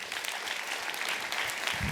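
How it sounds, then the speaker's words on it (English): An audience at a talk on energy, attitude and high performance claps warmly for Hannah, a dense, even wash of many hands close to the listener, with no talk over it. "Give Hannah a round of applause, please."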